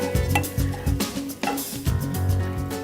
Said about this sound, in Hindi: प्याज आप बराबर चलाएं, क्योंकि मैंने इसमें तेल बहुत लिमिटेड क्वांटिटी का डाला है